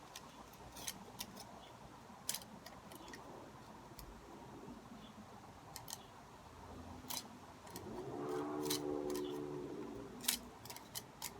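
A blade cutting and scraping down a feather for arrow fletching makes faint, sparse snips and scratches against a quiet background, with a brief murmur of voice near the end.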